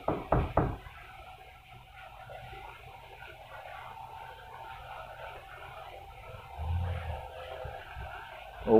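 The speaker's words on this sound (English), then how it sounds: "Can you knock like this?" Three quick knocks land sharply at the start, followed by several seconds of quiet room tone with only faint background noise.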